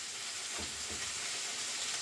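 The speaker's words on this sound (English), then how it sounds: "I like to hear the sizzle of this fish after it's done cooking." Bluegill fish sizzling in a frying pan after cooking, a steady broadband hiss with a couple of soft low pops, continuous and fairly close, no talking.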